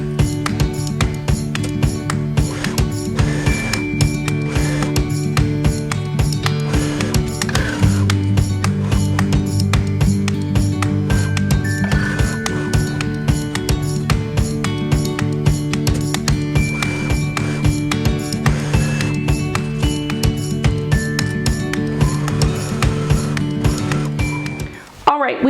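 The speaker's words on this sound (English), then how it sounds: "you will be top stitching on the waistband itself" A sewing machine top stitching a waistband runs steadily and loudly for about twenty-five seconds, with a rapid even needle rhythm and a constant motor hum that stops abruptly at the end.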